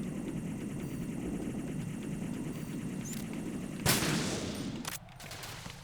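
Rapid gunfire from a stealth action game, Metal Gear Solid 2, rattling steadily throughout with a sharper burst near the end, no one speaking over it.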